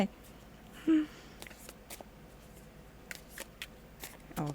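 A deck of tarot cards is shuffled softly, giving faint, scattered riffles and light taps in a quiet room, with a couple of slightly louder flicks.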